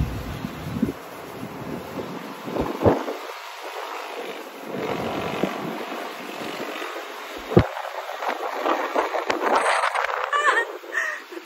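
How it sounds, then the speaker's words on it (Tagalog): Strong, cold wind buffets a balcony in Tagaytay, gusting unevenly in loud bursts against the microphone over a low roar that rises and falls throughout. "Sobrang hangin and malamig."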